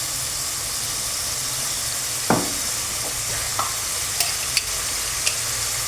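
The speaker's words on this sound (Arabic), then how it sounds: "نقلب مليح، ندير الزيت تاع الدجاج، كنقلبو، خليها تقلب مليح." Chicken frying in oil in a pan, seasoned with black pepper and salt, gives a steady close sizzle with a few sharp scrapes and clicks of stirring scattered through it.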